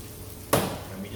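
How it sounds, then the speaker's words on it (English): Onions drop into a preheated pan with a sudden sizzling burst that quickly settles into a softer hiss. "We're going to throw it into our pan, which we've heated up."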